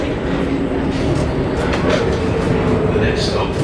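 Melbourne C2 class tram on Route 109 rumbling along the rails with steady rolling clatter, heard from on board beneath announcements and talk.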